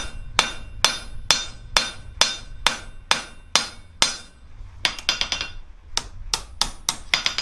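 A cross-peen hammer strikes hot steel on an anvil while a blacksmith forges a leaf-shaped drawer pull. Sharp metallic blows ring out close and loud in a steady rhythm, then speed up into quick bursts with short pauses between.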